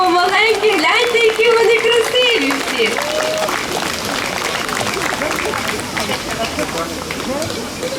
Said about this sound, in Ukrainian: Зустрічаємо з оплесками, будь ласка, підтримуємо.